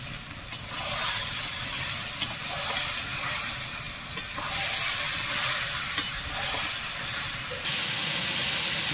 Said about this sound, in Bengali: বাঁধাকপিটা ভালো করে এবার কষে নেব